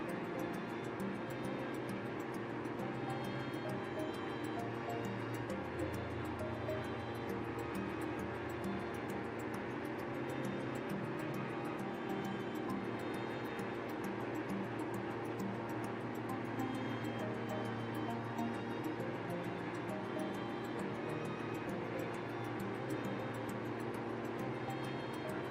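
Steady airliner cabin drone from a China Southern flight in Microsoft Flight Simulator, cruising at 204 knots true airspeed; a continuous, even engine hum with layered tones fills the whole stretch, no voices.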